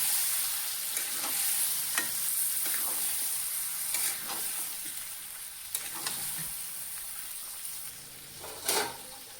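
Fish pieces with spices sizzle steadily in a hot pan while a spoon stirs them, giving a continuous bright frying hiss broken by occasional scraping strokes and clinks, close up with no talk.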